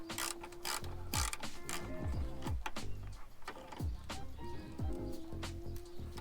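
A ratchet loosens a tailgate bolt during a DeeZee tailgate assist install, giving rapid close pawl clicking in repeated strokes, each burst ending in a short sweeping turn, with a steady hum underneath.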